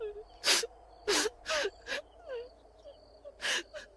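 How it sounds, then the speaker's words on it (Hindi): A woman cries in a ghost story, with soft breathy sobs and whimpers in short uneven bursts, heard close and faint against a quiet background. "तभी किसी की रोने की आवाज आई।"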